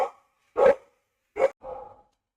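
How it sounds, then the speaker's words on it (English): A dog barks three or four times, loud and close, with short pauses between barks against an otherwise quiet background. "Sorry, my dog is barking."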